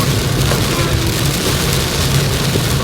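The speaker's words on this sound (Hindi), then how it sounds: "बहुत तेज बरसात है" Heavy rain pours down steadily in a dense, continuous roar, with no voices and no break in the downpour.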